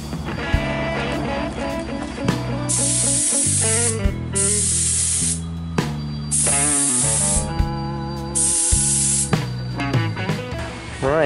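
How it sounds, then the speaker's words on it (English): New statue plaques are spray painted in bursts of loud hissing aerosol, several long sprays broken by short pauses, over a steady droning background with a tonal hum, close to the listener. "the new plaques all sprayed up"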